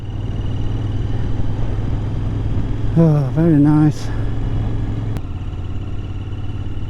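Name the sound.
Royal Enfield Continental GT650 motorcycle engine running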